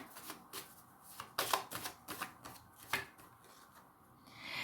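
Tarot cards shuffled and drawn by hand, a run of crisp riffling flutters and soft slaps in quick irregular bursts, fairly close and alone with no talk.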